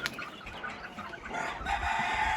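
Chickens clucking and crowing inside a coop with chicks, a short close burst of fowl calls growing busier toward the end.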